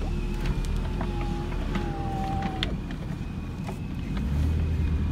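A Jaguar XK8 being driven up a road, its steady low engine and road rumble continuous throughout, with a faint higher whine riding over the drone.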